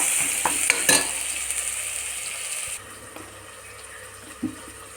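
Tomatoes and other ingredients for egg biryani being sautéed and stirred in a pan, with a steady sizzle and a few sharp scraping clicks early on, easing to a quieter fry with occasional stirring.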